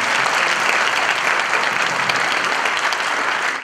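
Loud, sustained applause fills the room from a hall packed with young people after a poetry reading, a dense steady clatter of clapping with no pauses.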